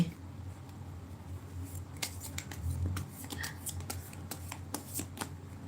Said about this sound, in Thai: แม่หมอขอเปิดไพ่ ใบแรกก่อนนะคะ